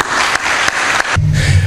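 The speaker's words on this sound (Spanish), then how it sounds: "yo quisiera pedirles un aplauso para recibir al doctor Miranda." Applause greets a speaker at a keynote lecture marking the INEEL institute's 40th anniversary, a brief burst of clapping broken by a few sharp gaps before a low hum takes over.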